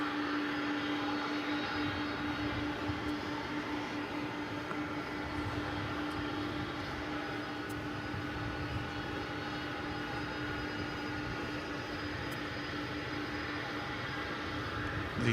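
A Qantas "Spirit of Australia" airliner at DFW Airport gives a steady, broad jet-engine roar with a constant hum, heard from a distance and unbroken throughout.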